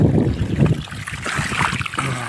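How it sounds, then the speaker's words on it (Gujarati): Water gushes from a 10HP submersible pump onto a farm, a loud, continuous rushing and splashing flow heard close up. "પાણી જો આવે આપણું પાણી આવે"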